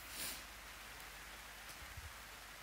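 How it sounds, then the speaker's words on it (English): Steady rain drums on a roof, an even hissing wash with a few soft low thumps, no voices. "It's just a beautiful sound to hear the rain drumming on the roof"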